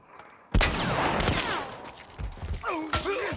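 Gunfire goes off during a firefight in the video game The Last of Us Part 1. A sudden loud blast opens the scene, followed by several sharp shots and mechanical clatter, with game voices heard briefly.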